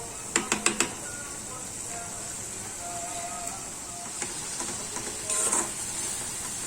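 Minced meat (keema) cooks on high flame in a pan for lasagna, giving a steady soft sizzle with a few quick clinks and stirring scrapes near the start and again toward the end.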